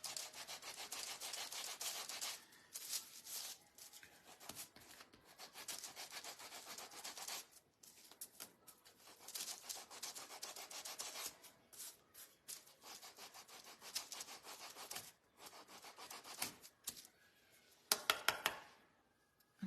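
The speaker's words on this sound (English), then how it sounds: "So we go ahead and sand this one." A wood shelf is sanded by hand with long, steady strokes of rough rubbing that continue almost without a break, briefly pausing a few times before a couple of sharper taps near the end.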